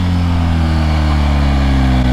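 A BMW R1250 GSA motorcycle on its stock exhaust gives a loud, close, steady engine drone with a deep rumbling tone that holds for about two seconds.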